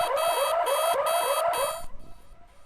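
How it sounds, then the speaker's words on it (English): A brewday timer program's alarm beeps loudly in a rapid repeating pattern of bright electronic chirps for about two seconds, then cuts off, leaving quiet room tone. "you'll get to hear what the alarms sound like"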